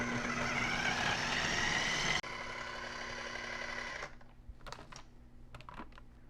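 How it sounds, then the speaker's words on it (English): A food processor whirs loudly and steadily as it breaks soaked dates down into a paste, then cuts off and gives way to quieter clatter and scraping. "Put them in your food processor and go"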